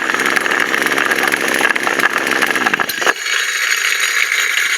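A Poulan Wild Thing two-stroke engine runs loud and close with a harsh, rattling, high-revving buzz that abruptly drops to a thinner idle about three seconds in, with no talk.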